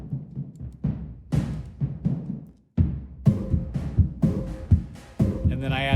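A sparse electronic drum pattern from a drum module's patch repeats with punchy low hits and bright noisy snaps, growing busier halfway through, playing alone without voices.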